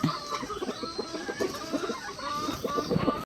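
Chickens clucking outside a net enclosure while waiting to be fed, a steady run of short, overlapping clucks from several birds at moderate distance, with soft background noise.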